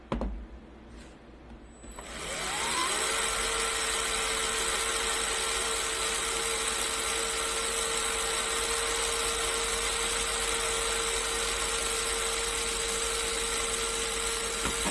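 A small BuWizz motor spins up after a brief quiet start and then runs at a steady speed for an RPM test. It gives a constant, even whine with a mechanical buzz, close to the listener.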